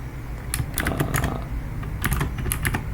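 Rapid typing on a computer keyboard while writing Python code, with quick clusters of close, crisp keystrokes over a steady low room hum and no talking.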